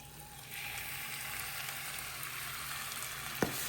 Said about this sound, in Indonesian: Nah setelah itu kita akan tumis dia.